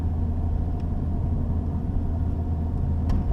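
Toyota Starlet engine running on a test drive during a gear change, a steady low rumble heard from inside the car with faint clicks.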